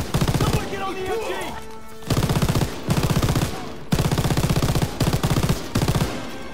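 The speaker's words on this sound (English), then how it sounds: "Open fire! Someone get on the MG!" Machine gun fire in Call of Duty WWII, set in WWII Operation Cobra, comes as rapid rattling bursts separated by short gaps, loud and close, with shouted voices and battle noise underneath.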